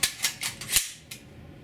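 An airgun, freshly oiled after long neglect, fires a sharp, close crack among a quick run of dry mechanical clicks and snaps, with no voices.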